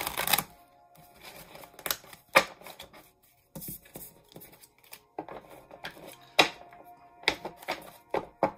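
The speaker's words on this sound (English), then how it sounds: "My shuffling is not on point today." Tarot cards being shuffled in uneven bursts of riffling and tapping, with short pauses between, close up and fairly quiet.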